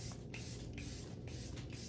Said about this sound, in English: putting on the airbrush setting spray first